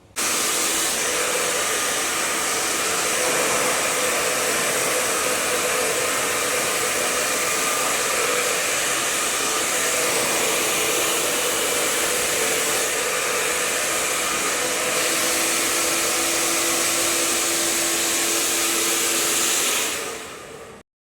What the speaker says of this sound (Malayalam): പിന്നെ ഹെയർ ഡ്രയർ കൊണ്ട് തന്നെ ഒന്നും കൂടി നല്ല രീതിയിൽ സ്ട്രെയിറ്റ് ലുക്കാക്കും